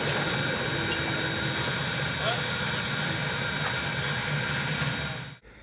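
Small steam train Set Inquiry Central 1 pulls into a station at the Hesston Steam Museum, a steady loud hiss and rumble of engine and rail noise that holds constant before dropping away sharply at the end.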